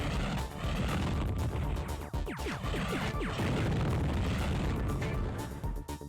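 Missile explosions in the video game FireFight: a dense, continuous roar of booms and bursts, loud and close, with streaking whooshes layered through the middle and no speech.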